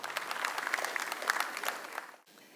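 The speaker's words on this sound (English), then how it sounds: "I'm sure you'd like to join me in a round of applause as Zainab makes her way to the stage." Audience applause at an energy summit in Pakistan as a speaker heads to the stage: a moderate, steady patter of many hands in a hall that cuts off abruptly near the end, leaving faint room tone.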